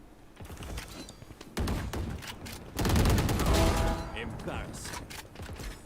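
Gunfire in a shooting video game, with rapid bursts of shots and mechanical clatter that grow louder toward the middle, mixed with game sounds while a player talks over it.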